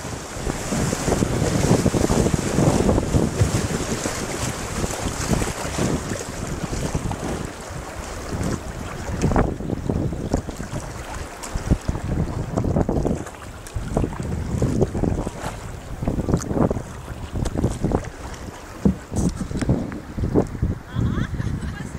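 Kayak paddled down a river current in strong wind, with steady wind buffeting the microphone and water splashing and rushing around the hull throughout.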